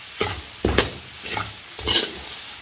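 Semolina roasting for halwa is stirred with a spoon in a pan, four rhythmic scraping strokes over a light sizzle, close and moderately quiet, without talking.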